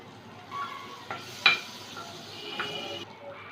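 Spice paste hits a hot wok while chicken soup is being made. There is a soft steady sizzle, with a few sharp utensil clinks and scrapes against the pan.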